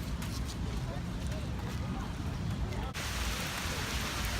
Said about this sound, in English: It started pouring here in the Boston Commons